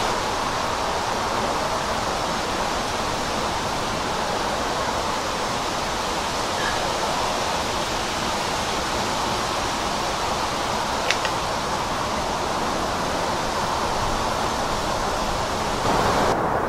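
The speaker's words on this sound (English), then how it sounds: "You can hear the highway down there" Distant highway traffic drifts up to a mountain section of the Appalachian Trail between Smith Gap and Wind Gap as a constant, even broadband roar, with no distinct vehicles and no talking.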